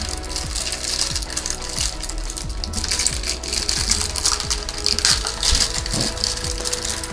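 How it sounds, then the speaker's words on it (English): Crinkling plastic and jingling metal links as a D1 Milano ultra-thin metal watch strap for a 40mm watch is pulled from its plastic sleeve, with steady close rustling and repeated clicking rattles throughout. "let's take it out of this plastic sleeve and see what it's like"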